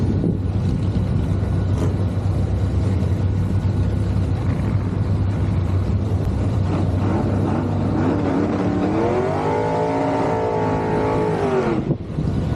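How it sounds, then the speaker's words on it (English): A pair of Chevy Nova drag cars, including a 1963 gasser, idle and rev loudly nearby, a steady heavy engine roar that climbs into rising pitch sweeps near the end before cutting off sharply. "And a pair of Chevy Novas will come up next."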